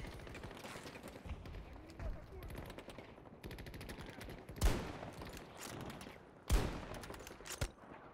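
Rapid automatic gunfire in the video game Battlefield 2042 crackles in repeated bursts, with a few louder, sharper shots standing out, while a voice talks over the action.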